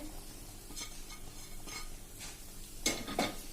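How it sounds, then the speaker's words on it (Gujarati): A spoon stirring crushed green wheat with ghee and jaggery in a pan over a low flame, a few distinct scraping clinks against the metal, the last two louder, over a faint sizzle. "હવે આને આપણે 1 મિનિટ આ રીતે બધું મિક્સ કરી લેશું"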